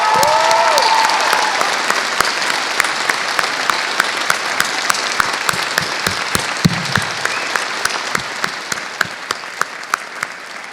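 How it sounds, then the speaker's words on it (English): Audience applause fills a university commencement hall for a new United States Army officer at the College of Sciences and Mathematics ceremony, steady and dense at first, then thinning into scattered individual claps toward the end. "Honored guests, please join me in a round of applause for the newest officer in the United States Army"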